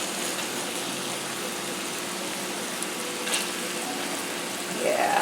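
Thai cilantro lime chicken frying in a pan gives a steady, close sizzle throughout, with a brief louder crackle near the end as the pieces are flipped.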